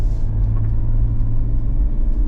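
An INEOS Grenadier 4x4 grinds up a steep, slippery off-road slope, its engine a steady, loud low rumble that holds without pause and with no voices over it.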